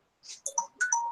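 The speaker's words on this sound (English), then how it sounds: "That was my alarm to turn my rice off." A phone alarm set for turning off a rice cooker chirps a short melodic ringtone, a few quick bright notes in two bursts, fairly clear and alone.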